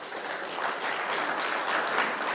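An audience claps together in sustained applause, a steady dense wash of clapping at moderate volume, with no voices over it.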